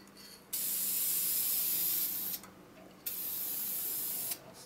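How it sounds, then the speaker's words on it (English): An aerosol can of Deft finish sprays light coats through its nozzle onto a wooden handle, two close, steady hissing bursts of about two seconds each, separated by a short pause. "take a light spray, and turn it around as you're doing it"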